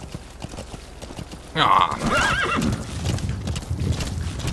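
Horse in the Metal Gear Solid V: The Phantom Pain video game, hooves clip-clopping along with a loud whinny that bursts in partway through, over steady game background sound and a brief spoken syllable.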